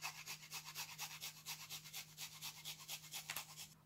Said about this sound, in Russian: Теперь беру чеснок и натираю на мелкой терке.